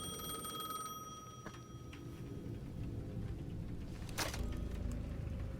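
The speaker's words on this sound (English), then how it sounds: "The payphone at the edge of the plaza was ringing again" A payphone at the edge of a plaza in the video game Alan Wake 2 rings with a faint, steady electronic trill over a low ambient hum, followed by a brief brighter burst.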